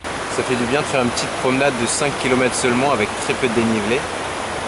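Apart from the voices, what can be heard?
waterfall in Cairngorm National Park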